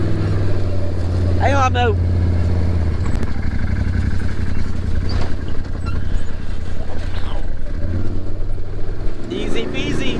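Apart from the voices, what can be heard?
Can-Am ATV driving through a desert wash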